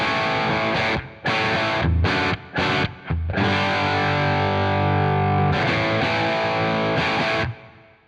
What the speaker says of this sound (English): We have a Marshall Blues Breaker down here.